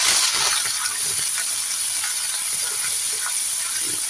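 Water poured into spices frying in a pan gives a steady, close sizzling hiss with faint stirring scrapes, continuous throughout with no voices.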